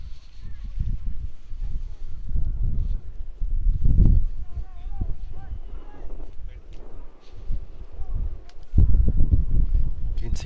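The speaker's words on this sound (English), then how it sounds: "You can see it's quite windy out here at Strawberry Knolls Field." Gusty wind buffets the microphone in heavy low rumbles at an outdoor cricket field, swelling and easing over the whole stretch, with a faint voice in the background.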